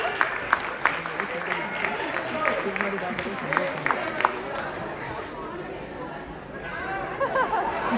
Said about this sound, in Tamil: ஒரு சிறந்த கைதட்டல் கொடுத்துடலாம்.